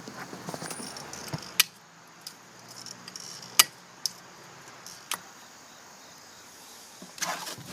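Snips cut wire mesh around a shower drain in a mortar shower pan bed, making a few sparse, crisp metallic snaps spaced irregularly against a quiet background.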